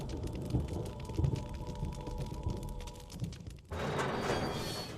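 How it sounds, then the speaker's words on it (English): Rain patters steadily against the mansion windows in the Resident Evil remake, a dense, even wash of drops that cuts off and gives way to a brighter, hissing downpour near the end. "the sounds of rain tapping against the windows"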